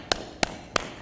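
Three sharp, evenly spaced single hand claps at a Modesto Junior College speech night, a slow demonstration rhythm with quiet room tone between the claps.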